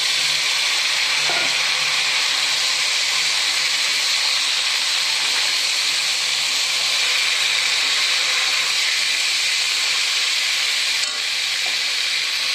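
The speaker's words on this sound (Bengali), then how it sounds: "মাছটাকে বেশি আমি ফ্রাই করব না, একদম হালকা হালকা ফ্রাই করে এখানে আমি আলুটা দিয়ে দেব।" Fish lightly frying in a pan gives off a steady, dense sizzle and hiss that carries on unbroken, with no one talking.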